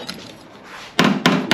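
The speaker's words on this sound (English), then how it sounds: "hit it with a hammer," A hammer strikes the rusty tailgate of an old Ford Fairlane wagon, ringing sheet metal in two sharp, loud, close blows after a quiet stretch.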